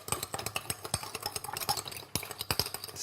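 A spoon stirs sugar into a lemon mixture for a tart, a quick run of soft rhythmic clinks and scrapes against the bowl, fairly close and quiet.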